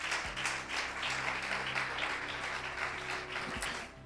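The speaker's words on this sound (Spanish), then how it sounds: "Dale un aplauso si quieren." Church congregation applauding during a Spanish-language sermon, a steady broad wash of clapping that holds for the whole stretch at moderate, even loudness, with a faint low hum beneath.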